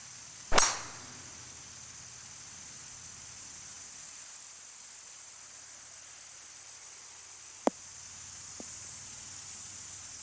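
A single sharp golf club strike on a tee shot in a golf course design video game, a crisp transient followed by a quiet steady hiss, with two faint small ticks later.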